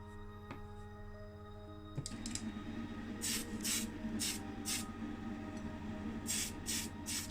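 Primer is sprayed from a can onto a Matchbox Ford Zodiac MK. IV model car in short, close hissing bursts, about seven quick spurts after a faint click, over a steady background hum.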